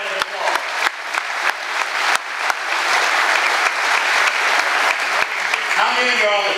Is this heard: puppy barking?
no